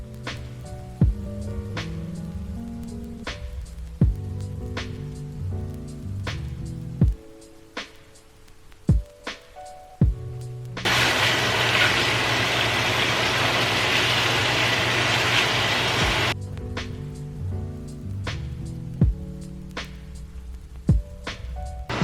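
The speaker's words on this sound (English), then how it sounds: "Sorry for the fan noise" A kitchen fan drones while ground beef with taco seasoning and cumin cooks in a pan. A low, steady mechanical hum is broken by sharp clicks, and a louder broadband rush takes over for several seconds midway.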